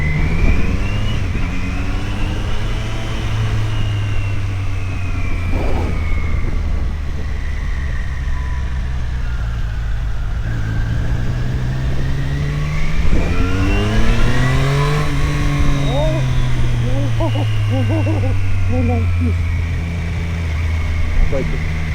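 A Triumph Street Triple 765 RS motorcycle engine revs repeatedly, its pitch sweeping up and falling back in long swells before climbing again, loud and close throughout, with voices talking over it.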